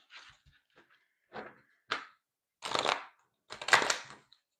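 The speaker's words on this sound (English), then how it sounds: "One more shuffle for Capricorn." A tarot card deck shuffled by hand at close range, producing several short papery riffling bursts that grow longer and louder toward the end, separated by brief quiet gaps.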